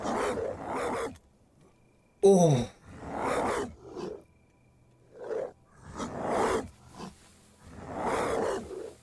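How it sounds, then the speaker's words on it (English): Wolves in the zombie survival video game Humanitz give a series of separate growling, howling bursts spread across several seconds, fairly close, with a brief startled exclamation from a person. "Oh, that's wolves."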